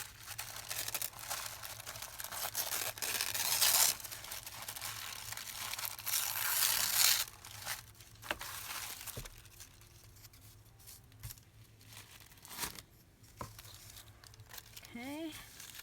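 Glitter tissue paper is torn along one edge in a few close, crinkly rips and crumples, soft and near, with a person talking quietly around the paper sounds.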